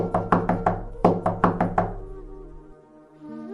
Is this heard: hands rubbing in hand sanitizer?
no